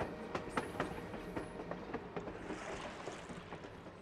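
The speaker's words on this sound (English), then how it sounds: "it's definitely the train." Train interior ambience in the video game A Memoir Blue: a steady rumbling rolling noise with faint repeated clickety-clack beats and occasional high metallic squeals, heard alone at a moderate distance.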